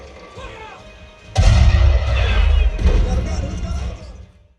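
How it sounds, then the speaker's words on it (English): Film cannon fire reproduced through an ELAC Varro DS1200 subwoofer: a sudden heavy blast followed by successive booming hits and deep sustained rumble, loud and close, fading out at the end. "The successive back-to-back cannon fire hits with excellent speedy transients that were both light on attack, but also had really good weight between each blast."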